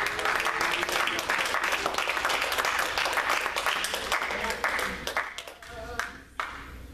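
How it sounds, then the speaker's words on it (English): Church congregation clapping their hands together in steady, dense applause for about seven seconds, loud and close, with some voices mixed in before the clapping thins out near the end. "Let's clap our hands to the Lord."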